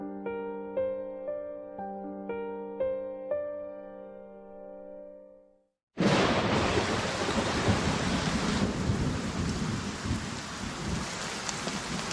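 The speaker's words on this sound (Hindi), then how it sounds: "आज बहुत तेज बारिश हो रही है।" Heavy rain pours down steadily with thunder rumbling through a storm, loud and continuous after a stretch of tonal music that cuts off abruptly.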